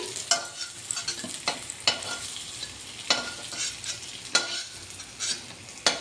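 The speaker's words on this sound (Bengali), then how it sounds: "দেখুন বন্ধুরা, এটা নেড়ে চেড়ে সুন্দর করে আমি ভেজে নিয়েছি" Chicken pieces and potatoes fry in oil in a pan with a continuous sizzle, while a spoon repeatedly stirs and scrapes them, producing sharp irregular clatters over the hiss. No one speaks.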